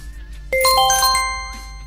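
A bright chiming alert tone plays as a streaming notification test, opening with one sharp ding and moving into a quick cascade of ringing bell-like notes that fades out, loud and alone.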